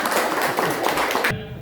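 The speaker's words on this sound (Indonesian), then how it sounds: "Silakan tepuk tangan." An audience claps after a group presentation in a learning center, a short dense burst of hand claps that cuts off abruptly.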